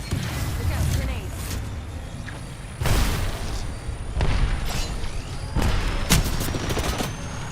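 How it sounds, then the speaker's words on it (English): A thermite grenade goes off in a shooter video game amid heavy gunfire, with several loud booming bursts and crackling fire spread across the moment, close and intense, while someone talks over it. "Throwing thermite grenade."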